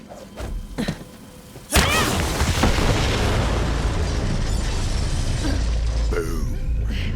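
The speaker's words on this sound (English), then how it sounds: "The explosion echoed through the forest" A few scattered thuds, then a sudden loud explosion in Borderlands 3 that roars on as a sustained rumbling, crackling blast in a forest setting.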